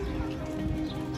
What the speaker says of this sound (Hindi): बल्कि बूंदाबांदी नहीं, अच्छी खासी तेज बारिश है।